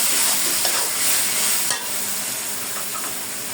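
Onions sizzling in a pan with ginger garlic paste and spices, a constant loud frying hiss with faint stirring scrapes, no voices.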